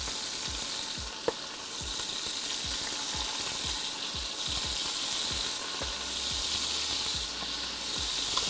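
Lamb pieces frying in a hot pan with a steady loud sizzle and bursts of clinks as the meat is stirred and dropped in.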